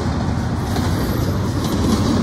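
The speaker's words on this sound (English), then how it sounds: "a random railfan recording a train at a freaking restaurant" A freight train rolls past nearby with a continuous rumbling roar and faint wheel clatter, steady and loud throughout with no voices.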